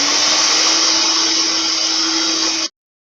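A loud, high-pitched electric mixer motor whirs at a constant speed whipping egg yolks with sugar, then cuts off abruptly near the end, leaving silence.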